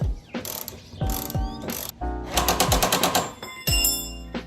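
A ratchet tightening the top strut tower bolts on a Toyota Soarer during a coilover install, several close, crisp bursts of rapid clicking separated by short pauses.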